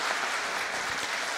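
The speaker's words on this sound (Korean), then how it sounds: "우리 박수로 환영하겠습니다." A congregation at a Sunday church service applauds to welcome visiting guests, a steady wash of many hands clapping heard from a distance, fairly faint and continuous throughout.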